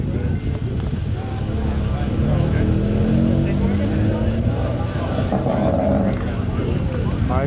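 An Audi RS3 and a McLaren 600LT launch off the line at a drag racing event, producing a steady, loud engine roar that runs throughout under continuous commentary.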